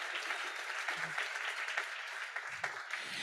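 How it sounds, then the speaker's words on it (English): An audience at a recovery fundraiser claps steadily and fairly loudly throughout, a dense wash of many hands with no talking over it. "One more round of applause."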